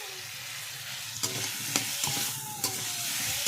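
Turnips fry with mustard paste and amchur in a pan, a steady loud sizzle broken by a few sharp stirring scrapes and clacks close by, with no talk.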